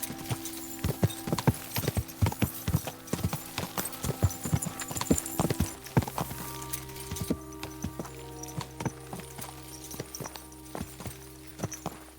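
Horse hooves clip-clop steadily in Kingdom Come: Deliverance II, a brisk riding rhythm of close, even hoof beats over a faint background hum, with no talking.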